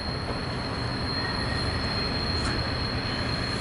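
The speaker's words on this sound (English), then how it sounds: "ballast train." A ballast train rolls past with a steady, loud metallic grind and a sustained high wheel squeal running throughout, close and continuous with no voices.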